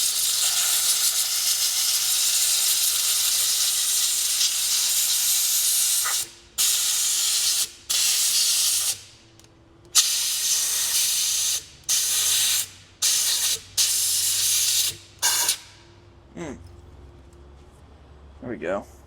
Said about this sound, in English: Blow out some of this gunk too.